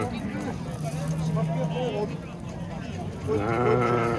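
Rams bleating in a series of wavering calls, growing louder toward the end, mixed with people talking nearby.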